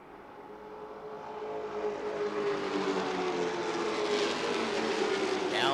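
Race trucks from the Midwest Super Trucks series roar around the Milwaukee Mile oval, a steady, building engine drone with a rising pass-by whine near the end, dense and continuous.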